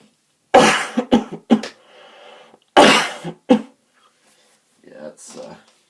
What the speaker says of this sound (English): I have really bad dry cough, so that's why I've been coughing